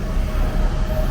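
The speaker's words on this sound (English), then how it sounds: "Katie, the train is coming!" A steady, loud low rumble of a train rolling past nearby in Ciqikou Ancient Town, Chongqing, continuous throughout with a faint high whine above it.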